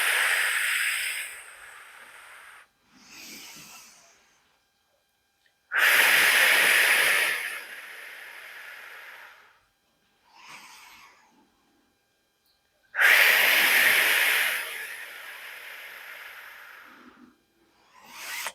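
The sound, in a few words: deep inhaling and exhaling during a postpartum core exercise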